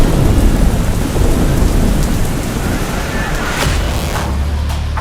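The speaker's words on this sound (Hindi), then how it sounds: "गुजरात के ज्यादातर हिस्सों में हो रही बारिश की मूसलाधार रफ्तार अब मुसीबत का सबब बनने लगी है" Torrential monsoon rain pours across Gujarat in a loud, dense continuous roar, with low thundery rumbling beneath and brief sharper splashes near the end.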